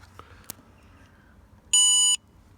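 An electrical tester on the driver's door wiring loom of a VW T4 van gives one short, steady high beep after a few faint clicks, otherwise quiet.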